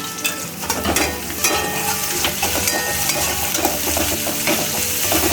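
Onions sizzle loudly in oil with a water-mixed spice paste for a spicy tilapia curry. The frying is continuous and close, with frequent scraping stirs and light clinks of a utensil against the pan.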